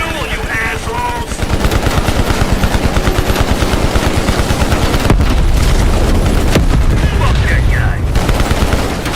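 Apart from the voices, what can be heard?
gunfire in Call of Duty Cold War video game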